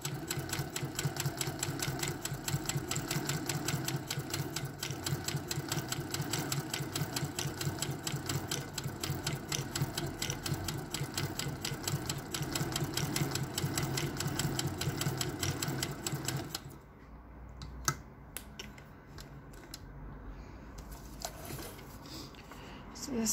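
A vintage Singer 201K hand-crank sewing machine stitches polyester thread with a fast, steady clatter for about seventeen seconds, then stops, leaving faint handling noises and quiet room tone.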